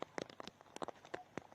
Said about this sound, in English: They might give it a few minutes and see if this rain passes by